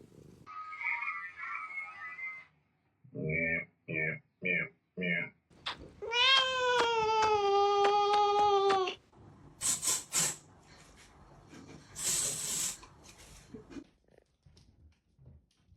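A house cat meowing close by in a series of short separate calls, then one long drawn-out meow, followed by a few brief chirps, with people talking in between.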